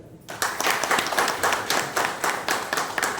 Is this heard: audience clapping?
yes